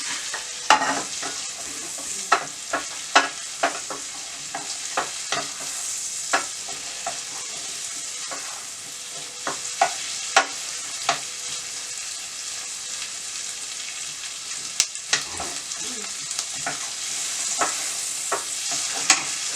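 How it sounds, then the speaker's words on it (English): Onions fry in a pan with a steady sizzle, while a utensil stirs them in repeated scraping and clinking strokes, close and clear, with no voices. "Right, onions in first. Let's fry them off a little bit."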